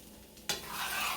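Shrimp fried rice stir-fried in a pan on the stove: a soft background hiss, then a sudden loud sizzle as it's tossed, staying steady and bright with no voices.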